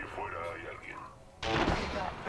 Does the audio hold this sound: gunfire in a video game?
yes